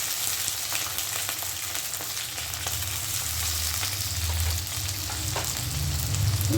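Onion and chillies fry in oil with black cumin before pumpkin goes into the pan: a continuous, close hiss and crackle with occasional stirring scrapes, steady throughout.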